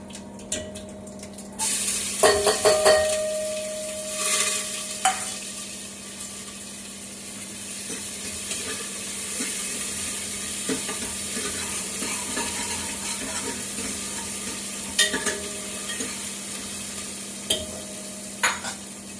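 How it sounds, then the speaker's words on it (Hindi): Onions fry with cumin and garlic, sizzling steadily in a hot pan, with occasional stirring clatter and scrapes over the soft, continuous frying hiss. "बस ये प्याज ब्राउन हो जाएगी तो टमाटर और धनिया डाल दूंगी मैं"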